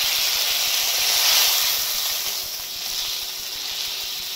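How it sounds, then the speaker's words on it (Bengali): Water poured into a frying spice paste in a pan sends up a loud, continuous steamy hiss that swells briefly and then eases slightly while it keeps bubbling underneath. "মশলাটা কষানো আমার হয়ে গেছে, এবারে দিয়ে দেবো এর মধ্যে জল।"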